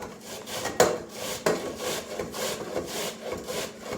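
Rhythmic rasping strokes of food being grated on a grater built into a bowl, close and steady, a few sharper scrapes near the start, no voices.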